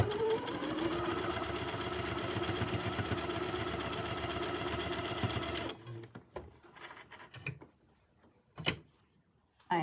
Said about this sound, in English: now I can take these 2 sets and stitch them together